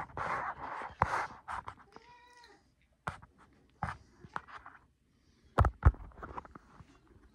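A cat gives a short, rising meow between scattered scratchy taps and rustles, close by and fairly quiet, with no talking.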